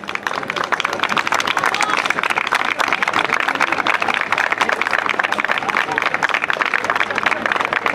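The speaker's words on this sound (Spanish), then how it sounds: "Para ellas pido un gran aplauso" Audience at an award ceremony giving loud, sustained applause for hotel chambermaids, a dense crowd of clapping hands with a murmur of voices underneath.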